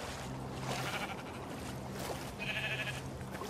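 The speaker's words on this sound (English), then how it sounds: "Is that a chicken? Maybe it's sheep. It's the sheep!" A sheep bleats faintly in the Minecraft Story Mode video game, a short wavering call heard twice against a steady wash of ambient game sound.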